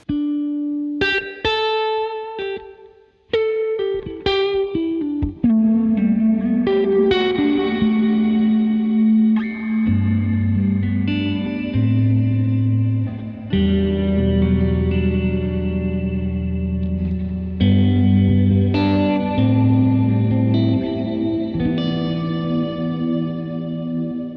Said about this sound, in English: we'll go from subtle to big